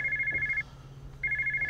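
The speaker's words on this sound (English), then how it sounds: "My phone's ringing." A telephone rings in two bursts with a short silent gap between them, electronic and clear, in a short film scene with no talk.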